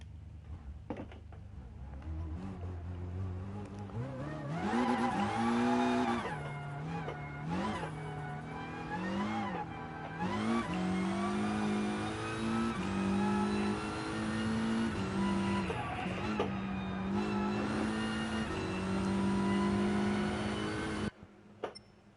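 A Volkswagen Scirocco race car in Gran Turismo Sport on the Nürburgring, its engine revving loudly and continuously with rising and falling pitch through gear changes, up close and alone.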